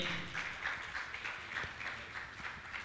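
Audience applause at a Jain religious gathering honouring participants, a steady wash of many hands clapping at moderate volume with a faint rhythmic pulse, no talk over it.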